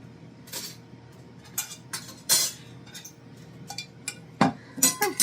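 A plate and spoon clink in a home kitchen while chicken broccoli cheese casserole is served, a scattering of short, light metallic and ceramic taps over quiet background.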